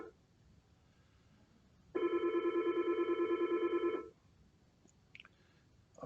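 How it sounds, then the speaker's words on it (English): A telephone rings in one sustained two-second burst of bright, warbling electronic tone, loud and alone in an otherwise quiet room during a Christmas quiz. "I'm not going to answer the phone."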